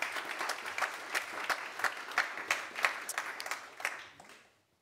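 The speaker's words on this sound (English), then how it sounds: "Please give them a round of applause." An audience at a live policy debate applauds the speakers, a dense moderate round of clapping with regular sharp hand claps that fades out over about four seconds.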